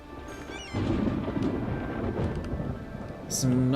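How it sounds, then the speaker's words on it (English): Thunder cracks loudly over steady rain in the city-building game Cities: Skylines, with a sharp burst rolling into rumble and a second strong peak near the end, along with faint game chimes. "Some nice loud cracks of thunder."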